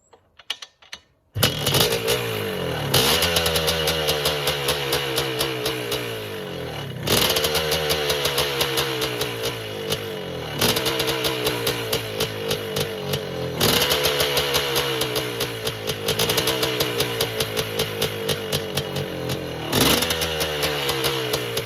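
A 1977 Husqvarna 360 motorcycle, slightly smoky and slow, kick-started after a short silence, then a loud, steady two-stroke engine note running close with repeated throttle blips rising and settling throughout.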